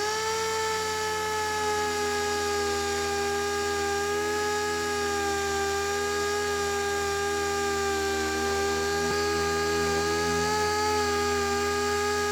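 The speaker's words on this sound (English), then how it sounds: "Now we hit it with some 80 on the DA" A dual-action (DA) sander loaded with 80-grit paper works a used car bumper, giving a steady, continuous tonal whine with a constant drone that holds evenly throughout, close and alone with no talk.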